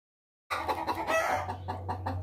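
A chicken clucks several times close by, with a low steady hum running underneath.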